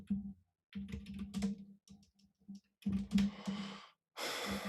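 Someone types on a computer keyboard in short close bursts of quick clicking, with pauses of silence between them and an audible breath or sigh near the end.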